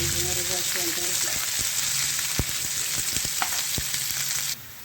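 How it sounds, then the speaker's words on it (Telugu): Onions and curry leaves fry in hot oil in a tempering for mint chutney, a steady close sizzle with a few sharp stirring clicks and scrapes throughout. "ఆనియన్స్ కరివేపాకు వేసుకొని దీన్ని బాగా ఫ్రై చేసుకోవాలి"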